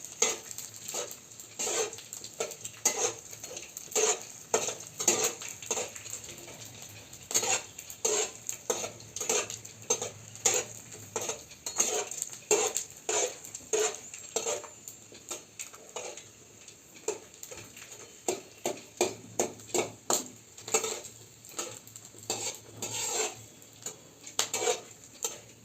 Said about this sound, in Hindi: घी गर्म हो चुका है और इसे चलाते हुए मीडियम आंच पे ही फ्राई करना है